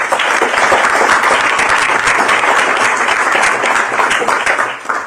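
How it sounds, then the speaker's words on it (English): Audience applause at a Boston gathering of civil rights and labor leaders fills the room, a dense, loud, steady wash of many hands clapping that fades slightly at the end. "A round of applause for Rahsaan."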